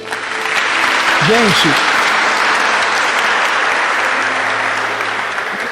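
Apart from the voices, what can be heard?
audience applauding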